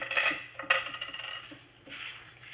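Keys set down on a table in a radio drama, a few light metallic clinks and jingles close by, with a short clatter near the start and a softer rattle later, no talking.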